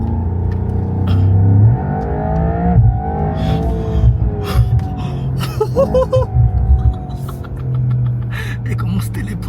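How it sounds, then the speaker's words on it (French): A Mercedes-AMG GT 63 4-door accelerates hard, its loud engine roar rising in pitch with gear-change dips and brief tire squeal, while people talk and react over it throughout. "C'est un dragster la voiture."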